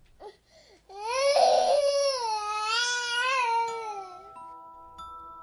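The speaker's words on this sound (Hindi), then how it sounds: "अचानक उसे किसी छोटे बच्चे की रोने की आवाज आई।" A baby cries in a long, wavering wail that rises and trails off after a couple of short whimpers, loud and close in an otherwise quiet, dark-sounding space.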